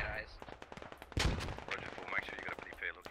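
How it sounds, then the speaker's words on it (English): Video game battle with an infantry platoon pushing Russian positions: gunfire cracks and bullets striking a wall from high ground, one sharp close impact amid scattered shots, under ongoing talk. "bullets hitting that wall, being shot from the high ground"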